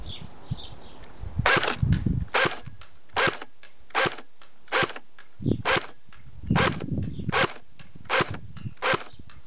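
A CYMA 1928 Thompson airsoft gun, all metal with a winding drum magazine, fires a steady series of single shots: about a dozen sharp, evenly spaced cracks, near and loud, with no voices.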